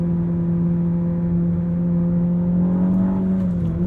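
Ferrari SF90 Spider engine under steady acceleration with the gearbox holding a gear, a smooth sustained drone with stable low harmonics heard from the cabin, loud and continuous with no talk.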